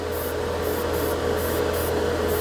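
Airbrush spraying nail polish over gray-primed plastic scale model parts, a steady continuous hiss of air and paint with a faint periodic pulsing high hiss, close and fairly loud throughout.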